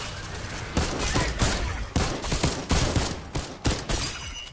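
Rapid, closely spaced gunshots in The Walking Dead video game, crackling as a dense fusillade with uneven bursts over a noisy, busy background and no talk over them.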